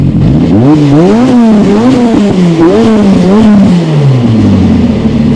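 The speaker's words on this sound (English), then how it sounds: "Give it a rev, Paul." A 600hp Ford Escort track car revs hard in repeated rising-and-falling blips, loud and close, with no talk over it and the engine settling toward idle at the end.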